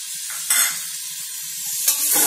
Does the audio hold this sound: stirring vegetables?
yes